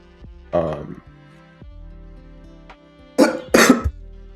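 Two bursts of coughing, a single cough early, then a harsher double cough near the end, close by against a quiet background.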